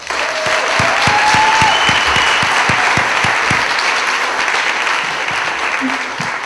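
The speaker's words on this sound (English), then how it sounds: "Give them a round of applause" Theater audience on a film festival opening night applauding in a dense, steady roar of many hands, with a few nearer distinct claps early on and faint voices mixed in.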